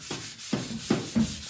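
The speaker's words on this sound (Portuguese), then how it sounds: "Lixando." Wood being sanded by hand on a carpenter-built wooden house, a near, dry rubbing scrape repeated in four short strokes with a steady back-and-forth rhythm.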